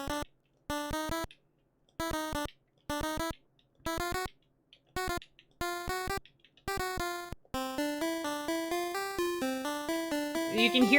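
An LSDj lead instrument on a Game Boy plays a run of bright, buzzy square-wave notes, with a table randomly altering the tone as each note sustains. Short stabs give way to a denser stream of notes.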